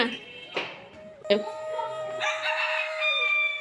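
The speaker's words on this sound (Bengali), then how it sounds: "রাজা মুরগি" A chicken on a rooftop garden gives a few short calls and clucks, close and fairly faint, with a person speaking nearby.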